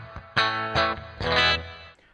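An electric guitar runs through the Dyn Comp compressor on a Headrush MX5 with the tight AF preset, playing three strummed chords in quick succession with an even, squeezed sustain.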